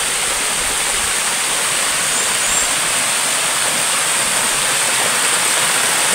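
A waterfall pouring into a pool, a loud, steady, unbroken roar of rushing water close by that fills the whole stretch, with no voices.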